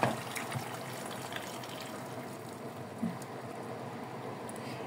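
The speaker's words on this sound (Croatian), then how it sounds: "I dodat ćemo vruću vodu sad, znači toplu vodu, i to ćemo da stavimo da se kuha" Hot water pours steadily into a pot of vegetables for North African couscous, a soft continuous gushing wash that opens with a slight splash and stays at moderate level.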